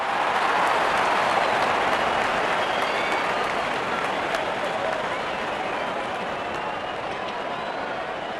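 A cricket stadium crowd at an IPL match between Rajasthan Royals and Sunrisers Hyderabad cheering, a dense continuous roar of applause and shouting that stays loud throughout and eases slightly toward the end.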